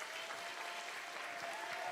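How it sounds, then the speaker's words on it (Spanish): An audience claps for Leo, Leonardo Chavar, after a flat-earth talk, giving a brief, even, faint burst of applause with no voices over it. "¿Por qué no le damos un aplauso fuerte a Leo?"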